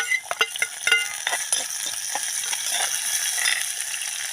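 Green chillies and curry leaves fry in a hot pan with oil, giving a bright crackling sizzle broken by scraping and stirring clatters near the start, then a steadier busy crackle.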